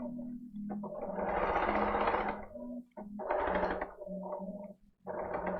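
A sewing machine backstitches a crotch seam on a garment. The motor whirs in quick, close bursts that start and stop several times with short pauses between runs.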